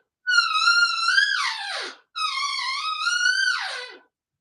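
Elk call imitated on a hyper lip diaphragm call, two drawn-out high whistling bugles that each slide downward at the end, heard alone at close range.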